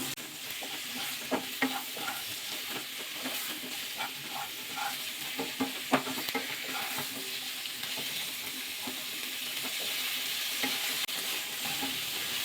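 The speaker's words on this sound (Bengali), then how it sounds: "কপি আলাদা আলু আলাদা আমি একসাথে দিয়ে ভাজা করে নিলাম" Cauliflower and potato pieces fry together in mustard oil in a kadai, sizzling under repeated close stirring, scraping and clattering, with no talk.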